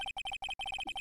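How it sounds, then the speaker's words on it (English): An electronic phone ringtone from the Ace Attorney video game plays as rapid repeating two-tone beeps in short bursts, bright and loud, with no voices. "I heard a phone ring just now. One of those newfangled ringtones."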